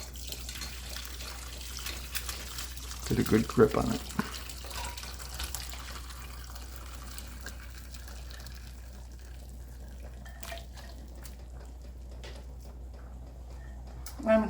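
Liquid pours briefly into a strainer with a splashy burst, then trickles and drips quietly, with a voice speaking near the start.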